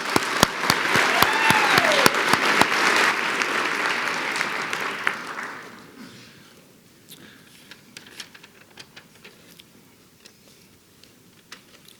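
Audience applause for Sterling Scholar award winners at an evening awards ceremony, a loud steady burst of clapping that fades after about five seconds into scattered claps and quiet room noise.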